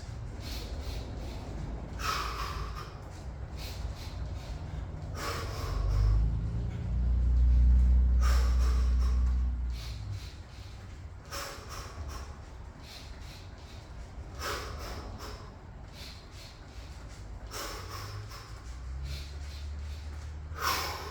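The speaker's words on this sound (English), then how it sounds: "all the way in, all the way out, in and out, always breathing" Heavy rhythmic breathing during a garage workout, sharp exhales repeating every couple of seconds close up, over a low rumbling background.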